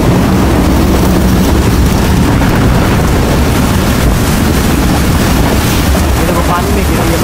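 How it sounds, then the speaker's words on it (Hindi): Heavy storm rain pours onto open water in the Pakistani countryside, making a dense, loud, unbroken roar with a windy rush that holds steady throughout. "ये बारिश है और फुल तेज हो रही है।"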